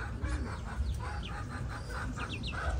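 Free-range chickens, including Dong Tao, American and Tien Vua breeds, feed alongside pigeons on a farm: close, busy clucking mixed with short chirps and calls over a steady outdoor background.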